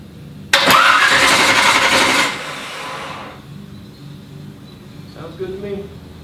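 A Corvette engine cranks and catches with a loud burst, roars briefly, then settles into a lower, rougher idle, heard close up. A voice speaks near the end.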